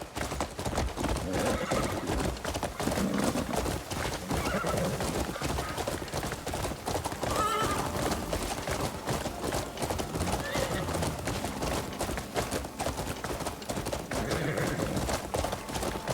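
Rapid hoofbeats clip-clop continuously as a horse gallops in the video game Crimson Desert, with neighs and whinnies breaking through, all in a synthetic game soundscape.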